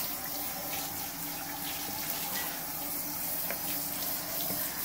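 Steady hiss of spraying water runs throughout, fairly quiet and even, as an English Cocker Spaniel is bathed and rinsed before a trim.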